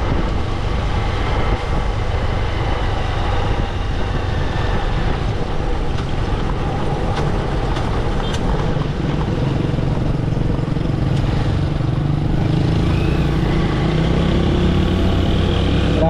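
Older Honda Supremo 155 motorcycle engine running: a loud, continuous, rough engine drone with wind buffeting the microphone throughout, with no talk over it.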